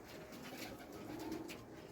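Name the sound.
pigeons cooing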